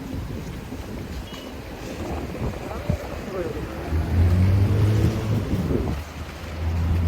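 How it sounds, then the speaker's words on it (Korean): Wind blows near the seaside, a low, rumbling gust buffeting the microphone that swells and eases over several seconds, with faint voices and outdoor ambience underneath. "바람이 부네요 바람이 불어 오늘도"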